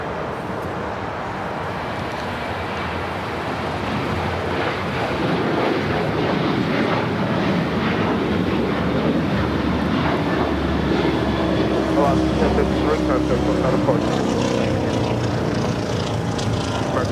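A jet airliner rolls for takeoff on runway 25 right at Los Angeles International Airport, a steady broadband engine roar building and holding loud, with wind buffeting the microphone and speech over it.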